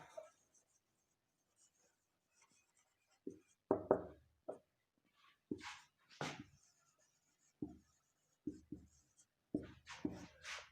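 Marker or chalk strokes on a classroom board during a grammar lesson, a series of short scratchy bursts spaced irregularly with quiet gaps between them, fairly close and clear with no voice over them.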